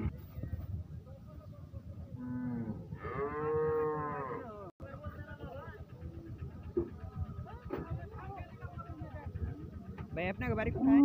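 A red cross-breed Australian dairy cow moos in long drawn-out calls at a busy Bangladeshi cattle market, close and loud, with people talking around it and a bustling crowd in the background.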